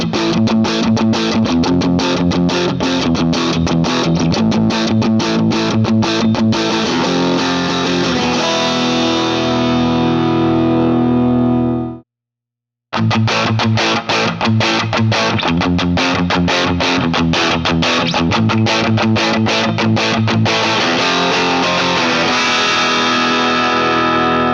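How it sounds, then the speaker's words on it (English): A stereo electric guitar on its default patch plays heavily distorted, effected chords and riffs continuously and loudly, with one brief full stop near the middle before it resumes. "We'll listen to my stereo guitar's default patch first"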